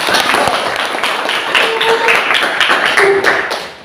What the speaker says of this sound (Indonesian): berikan tepuk tangan dulu buat Julma